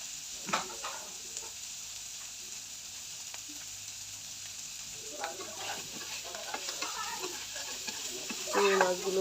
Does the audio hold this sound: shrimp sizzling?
yes